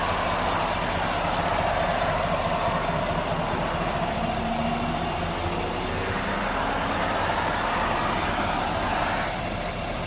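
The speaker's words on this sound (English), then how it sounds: "pretty smooth running engine too" A Chevrolet Silverado 1500 V8 pickup truck engine with Flowmaster exhausts idles steadily nearby, a smooth continuous rumble with a faint whine, and no one speaking.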